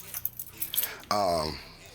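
Keys on a Venom x22GT 250cc automatic motorcycle jangle in several close, bright metallic clinks, followed by a short voiced sound.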